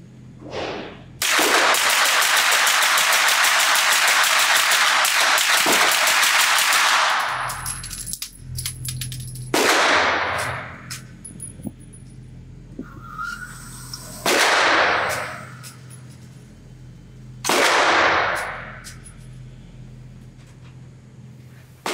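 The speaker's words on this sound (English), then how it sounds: "I just want to do a quick mag dump with this." SilencerCo Maxim 9 integrally suppressed semi-auto pistol firing a rapid mag dump from a 33-round stick magazine at a range: a long unbroken stream of loud, sharp suppressed shots, then several separate bursts of fire, with no talking.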